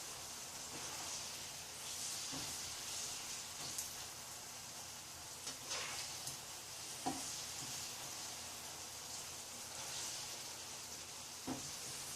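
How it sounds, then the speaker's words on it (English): Chunks of sea robin meat and vegetables pan-frying in a stir fry, a quiet continuous sizzle with occasional spatula clicks and scrapes as the food is flipped and stirred, no talking. "almost pan frying small chunks of meat and pieces of vegetables, as you just keep on flipping it and stirring it"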